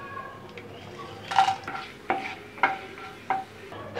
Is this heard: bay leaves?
yes